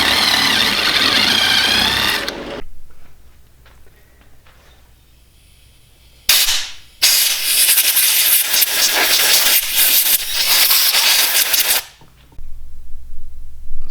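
MIG welding on the aluminum engine case of a 1994 Honda CR125 dirtbike: two loud bursts of crackling, hissing arc, one around two seconds long and a longer one near six seconds, separated by quieter shop noise.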